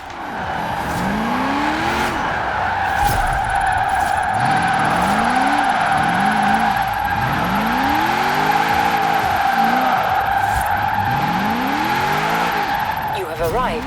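A 1945 Jeep Willys MB on an all-wheel-drive drift tune slides through Forza Horizon 4, its engine droning steadily while tires squeal in repeated rising sweeps, with someone talking over it throughout.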